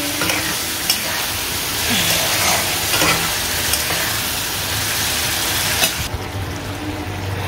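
Chicken being stir-fried with ground spices (cumin, coriander, chilli powder, garam masala) in a pan, a steady loud sizzle with stirring scrapes throughout, no talk.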